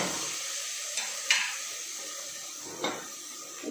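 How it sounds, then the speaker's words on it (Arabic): Minced ginger sizzles in a frying pan, a steady close hiss of hot oil with a few sharp scrapes and stirring clatters of a utensil against the pan. "دلوقتي انا هنزل الجنزبيل بتاعي اللي فرمته"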